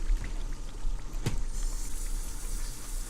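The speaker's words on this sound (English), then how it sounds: "Apparently he's trying to ignore it by getting in the shower" A shower runs in a video game, a continuous hiss of falling water that stays fairly even throughout, with one brief sharp splash-like burst near the middle and no talking.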